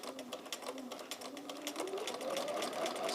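A sewing machine quilts through a layer cake quilt with a fast, steady, close needle rattle that runs continuously and speeds up slightly, while someone talks over it.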